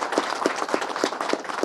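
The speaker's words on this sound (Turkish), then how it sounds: "Biz de şimdi onları alkışlayalım" Brief, faint round of rhythmic clapping from a small group, evenly paced claps heard at a distance with no talking.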